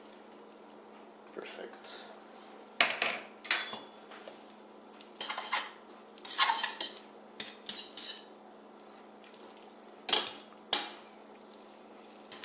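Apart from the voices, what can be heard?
adding pasta to the pan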